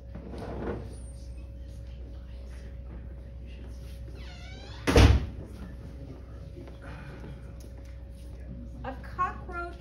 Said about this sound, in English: Close the door, it's too loud.